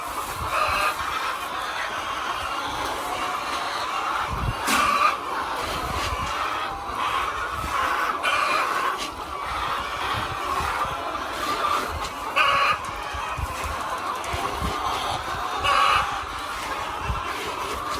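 A dense flock of chickens at a poultry farm clucks continuously, a busy overlapping chatter with occasional louder calls standing out, no talk over it.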